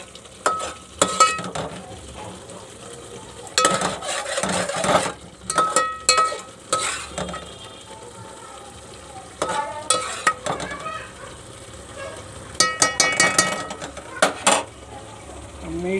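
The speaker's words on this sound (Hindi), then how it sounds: "हल्के हल्के मसाले मैंने थोड़ा मिक्स कर देता हूँ अच्छे से" Spices stirred into a frying pan on a home stove, a spoon scraping and clinking against the metal in short bursts over a soft sizzle, with pauses between strokes.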